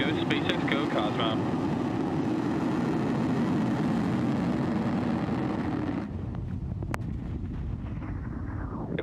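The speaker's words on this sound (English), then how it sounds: "3, 2, 1. Ignition. Liftoff of Falcon 9." A SpaceX Falcon 9 rocket lifts off carrying an Italian COSMO-SkyMed satellite, a loud, broad continuous roar with wind buffeting that thins and fades after a few seconds, while voices are heard over it.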